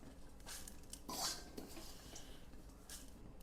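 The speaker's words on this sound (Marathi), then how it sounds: "चला तर मी आता हे प्लेटमध्ये काढून घेणार आहे" Roasted cumin seeds scraped from a pan onto a plate in a home kitchen while making black garam masala, giving faint metallic clinks and scraping of utensil on cookware, with one louder clatter near the middle.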